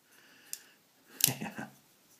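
A Benchmade 275 Adamas knife flicked open by its thumb stud: a small tick, a pause, then a sharp metallic snap as the blade locks, followed by brief rattling clicks, close and crisp.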